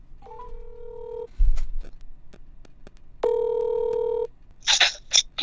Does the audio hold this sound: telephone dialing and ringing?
yes